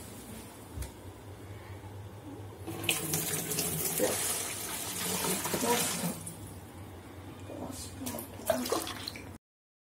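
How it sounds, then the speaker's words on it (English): Water pours steadily into a small bucket for a flood alert system test near a dam model, a close splashing stream swelling for several seconds then easing, with brief trickles afterward and no talk. "And let's start pouring some water."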